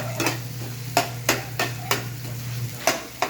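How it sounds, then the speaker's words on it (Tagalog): Sisig being sautéed in a cooker, a low steady sizzle with a spatula scraping and clacking against the pan every fraction of a second in an irregular rhythm, close and clear. "Ito po mga kaidol, ginigisa na po natin, ganyan, ganyan lang po ang pagigisa mga kaidol."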